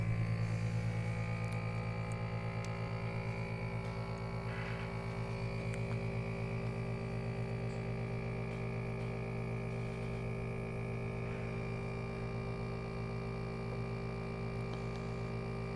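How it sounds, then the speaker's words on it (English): A record cleaning machine runs with its pump and thread arm going, giving a steady, even mechanical hum and drone that holds without a break and with no voices. "turn on the arm, and turn on the pump"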